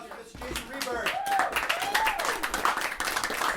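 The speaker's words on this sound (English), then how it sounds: "Another round of applause for Mr." Scattered clapping from a small parlor audience after poet Jason Ryberg's reading, individual claps audible under people talking, with a whoop or cheer rising above the room.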